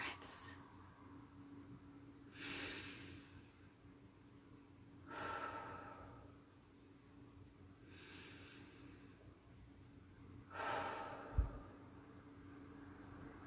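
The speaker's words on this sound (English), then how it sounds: "join me for 5 deep breaths" A few slow, deep inhales and exhales during a guided relaxation for parents, faint airy swells spaced a few seconds apart over a steady low hum, with no talking.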